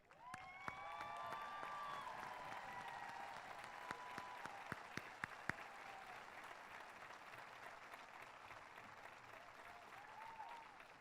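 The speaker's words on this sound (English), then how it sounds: "offer them a round of applause as a final tribute to their" Graduating seniors applaud faculty at a high school commencement ceremony, a steady wash of clapping from a large crowd filling the room, with a few sharper nearby claps standing out and scattered faint voices underneath.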